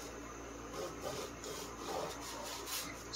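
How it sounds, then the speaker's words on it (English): Back-and-forth sawing of a bread knife through dense, crusty ciabatta, a soft rasping scrape repeating in a steady rhythm, close up. "if you wanna saw through your bread, okay, bread knife's fine"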